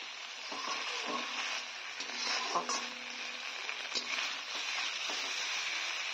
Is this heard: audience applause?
no